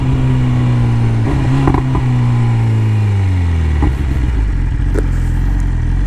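A BMW S1000 sport motorcycle engine during wheelie practice, loud and close, holding a droning tone that drops in pitch as it eases off, with mechanical clatter and brief bursts along the way.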